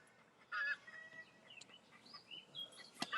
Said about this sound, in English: we're just getting the chickens in the background and people blowing horns and everything